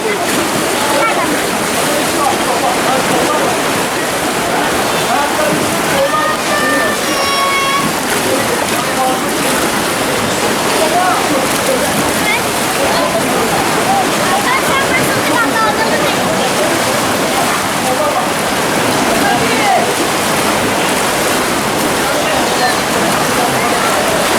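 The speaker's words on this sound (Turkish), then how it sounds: "bugün biraz deniz dalgalı" Constant loud rushing of rough sea water and crashing surf at the cliffs of Antalya, Turkey, fills the whole clip, with faint voices buried underneath.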